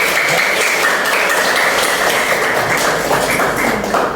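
A school audience claps for the participants of a literacy competition, dense continuous applause from many hands, loud and steady throughout, with no clear speech over it.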